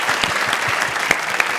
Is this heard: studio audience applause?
yes